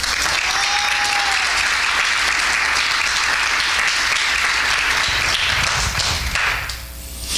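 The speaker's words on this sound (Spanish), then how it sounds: "Un aplauso fuerte al Señor." A church congregation applauding loudly during a bilingual worship service, a thick, sustained roar of clapping that fades near the end, with a brief voice trace mixed in.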